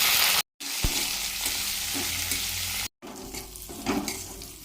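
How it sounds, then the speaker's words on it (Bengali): Chopped onion and green chili fry in hot oil with curry leaves, a close, continuous sizzle broken by occasional stirring scrapes and two brief cuts to silence. "কারি পাতাটা ভাজা হলে এর সাথে দেব কুচনো পেঁয়াজ আর কুচনো লঙ্কা দিয়ে একসঙ্গে একটু ভেজে নেব"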